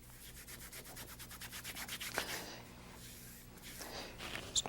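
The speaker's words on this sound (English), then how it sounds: "I start to activate the acrylic glue by rubbing the tape" A hand rubs kinesiology tape onto a patient's skin to activate its acrylic glue, giving soft, close, quiet swishing friction strokes with a small tap near the end.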